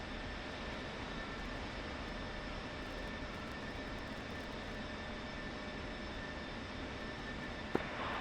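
Steady, loud jet engine roar from a fighter aircraft in a flight combat game, a continuous broadband rumble with a faint tone above it and a brief click near the end.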